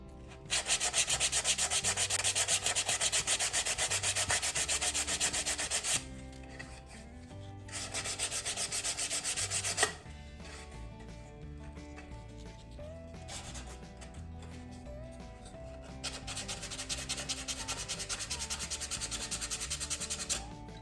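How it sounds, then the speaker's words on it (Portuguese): Sandpaper rubbed by hand over a decoupage wooden remote-control holder, a steady dry scratchy rasp in long close strokes with brief pauses between bursts, no talk. "quando você passar ali a lixa, você vai ter aquela suavidade, aquela sensação bem lisinha na sua peça"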